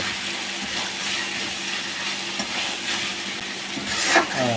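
Ginger-garlic paste frying in a pan, a steady soft sizzle with faint stirring scrapes throughout, close and moderately quiet.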